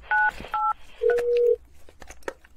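Telephone keypad tones dialing 911, three short distinct beeps in a row, clean and close against a quiet background, followed by faint clicks.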